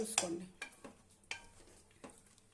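Chicken biryani rice is stirred in a pot with a spoon, giving a few quiet scraping strokes and light knocks spaced about half a second apart, close by and soft.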